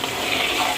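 Slit green chilies and onion pieces frying in hot oil in a pan on the stove: a dense, close, steady sizzle lasting under a second, with no talk.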